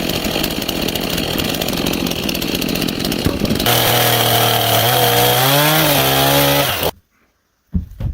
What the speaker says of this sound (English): The thick part of the wooden tree is being cut and leveled, which will be used as the legs of the bed.